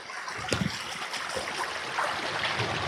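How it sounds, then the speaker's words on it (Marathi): The Bhima river flows down from its source at Bhimakund, Bhimashankar, in the rainy season. Its water rushes and trickles steadily at moderate distance, with a few faint knocks in the continuous wash. "ते बघा, इथून वाहत येतो पाणी"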